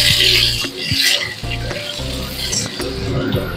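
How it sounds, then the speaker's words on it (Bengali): Mango pieces sizzle in hot oil with mustard seeds and dried red chili for mango dal, a loud close frying hiss with stirring bumps, music underneath, and no talk. "আমগুলো আমার হালকা ভাজা হয়ে গেছে"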